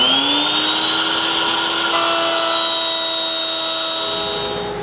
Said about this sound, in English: I'm set up with a 3/8 inch spiral bit, and we're just going to test this